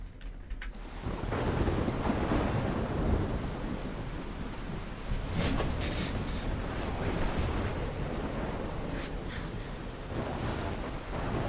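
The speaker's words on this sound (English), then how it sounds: "You're in a thunderstorm." Thunderstorm with steady heavy rain in the Life Is Strange video game, a dense continuous roar with rolling thunder and sharper cracks throughout.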